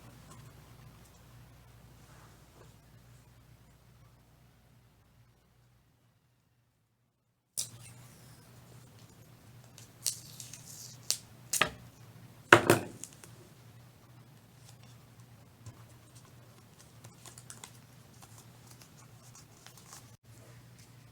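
Tape is pulled and pressed onto a paper rocket, giving faint scratchy rustles and a few soft crackling bursts over quiet room hum after a silent opening.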